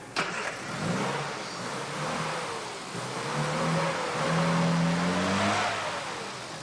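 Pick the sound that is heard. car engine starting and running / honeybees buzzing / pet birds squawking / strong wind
car engine starting and running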